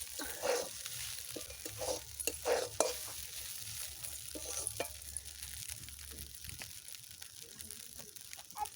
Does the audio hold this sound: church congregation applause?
no